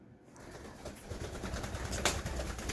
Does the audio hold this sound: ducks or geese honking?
no